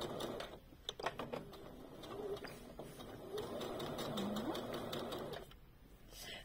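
A sewing machine stitching a bag's lining fabric hums in a quick continuous run, with a few clicks at the start and a brief stop near the end, fairly quiet and close.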